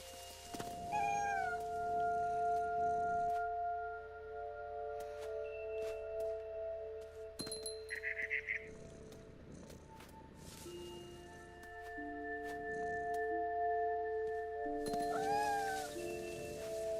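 A cat meows several times in the video game What Remains of Edith Finch, faint short calls spaced apart over a quiet ambient background with occasional soft chirps.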